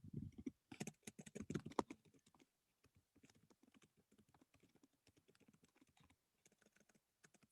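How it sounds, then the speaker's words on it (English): Rapid, irregular clicking of keys on a computer keyboard, quiet and close, with a brief burst of heavier clatter near the start. "So I hear Brandon's keyboard flying"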